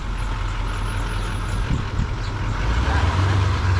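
A heavy truck rumbles near a fuel spill site in Westchester, its loud, steady low engine drone close by with a brief surge partway through.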